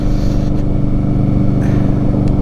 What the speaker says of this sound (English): This is my first ride with the new mufflers on, and I gotta tell you, man, the sound is unbelievable